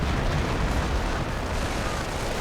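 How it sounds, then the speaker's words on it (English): American artillery in a video game pounding a base, a dense continuous rumble of overlapping blasts and booms, loud and unbroken throughout with no clear gaps. "Base getting hammered by American artillery."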